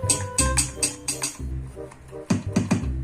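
Hits on a cheap electronic drum kit, close and punchy: deep thumping kick beats mixed with sharper cymbal-like taps in a loose, uneven pattern.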